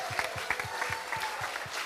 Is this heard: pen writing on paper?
no